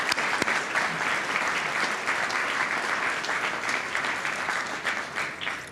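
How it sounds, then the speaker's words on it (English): Sustained applause from a graduation ceremony audience honoring the faculty, steady and full throughout with a slight tapering at the end. "So can we all give them another round of applause"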